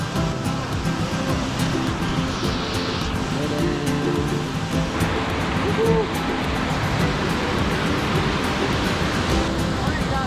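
Pons Falls waterfall in Claveria, Misamis Oriental, roars as a steady, dense broadband rush that fills the whole stretch, with faint voices now and then beneath the constant water noise.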